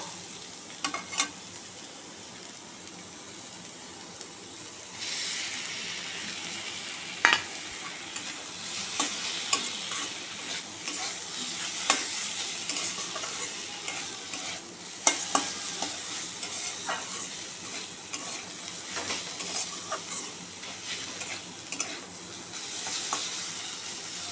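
Mustard paste frying and being stirred in a pan while cooking bottle-gourd peel with prawns, a steady close sizzle broken by scraping and clinking of the spatula, with no talking.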